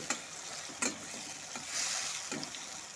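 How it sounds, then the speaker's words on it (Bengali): Sesame and poppy seeds are stirred into hot oil with slit green chillies and salt for an aloo dish, a quiet steady sizzle punctuated by about four sharp scrapes of the spoon against the pan. "এখন সমস্ত কিছুর সাথে তেলের সাথে তিল আর পোস্তটাকে ভালো মতো করে মিশিয়ে নেব"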